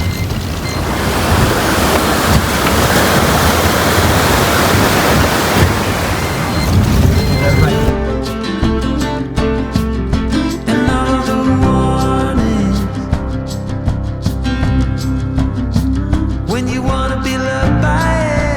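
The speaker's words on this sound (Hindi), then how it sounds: "इस नदी में पानी बह रहा है।" Mountain river water on the Sangla to Chitkul road rushes as a loud, steady broadband roar for about eight seconds, then music takes over.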